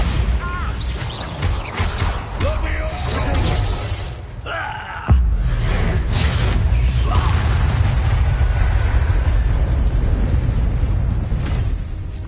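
Bombarda explosion spell blast in the video game Hogwarts Legacy, a loud rumbling burst during a battle that settles into a heavy, sustained roar of debris and low boom.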